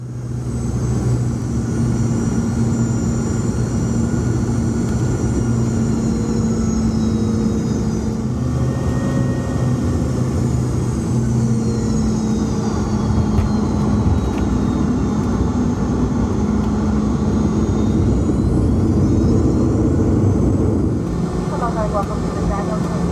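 Inside the cabin of a Hawaiian Airlines Boeing 717-200 landing at Honolulu, a loud steady jet engine roar with shifting whine tones carries on continuously, while a voice speaks over it.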